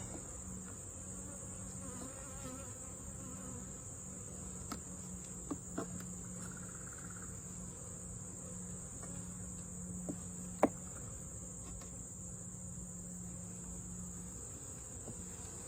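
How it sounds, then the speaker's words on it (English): Honeybees hum around an open hive during an inspection, a faint steady drone with a thin high whine on top and a few soft clicks and knocks from the frames. "A lot of bees."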